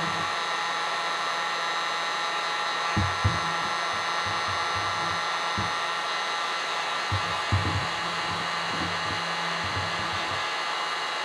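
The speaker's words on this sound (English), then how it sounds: "Now I've got my heat tool and I'm going to heat emboss it." A heat embossing tool blows hot air in a steady, loud, unbroken whoosh for the whole stretch, with a few soft low thumps mixed in and no talking.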